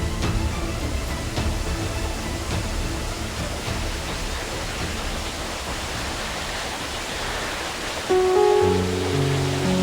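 A waterfall in a forest pours with a steady, loud broadband rush, and a brief musical tone enters near the end.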